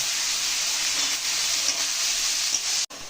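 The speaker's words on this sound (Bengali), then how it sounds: "এবার আমি পেঁয়াজটা একটু লাল লাল করে ভেজে নেব" Steady, loud sizzling of onions browning in a hot pan for Bihari chicken, a continuous crackling hiss that cuts off abruptly near the end.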